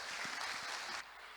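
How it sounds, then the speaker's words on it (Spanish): Warm applause for a departing cybersecurity expert after his talk, a dense steady patter of clapping that carries for about a second and then drops to a softer, thinner level. "Lo despedimos con un caluroso aplauso"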